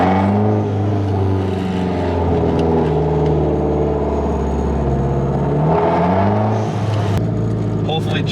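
A 260-horsepower car engine idles close by with a low, steady burble and a few slight rises in pitch, while a person talks over it throughout.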